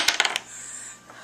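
Dice rolled onto a table during a Dungeons and Dragons game: a quick burst of four or five sharp, bright clattering bounces close by, then a short faint settle, with no talk over it.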